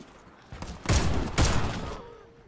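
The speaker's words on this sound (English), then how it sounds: "Why am I even shooting with a shotgun on that range?" Two heavy shotgun blasts from the video game Warface boom out in quick succession, each a loud broadband burst with a short decaying tail, the second following about half a second after the first.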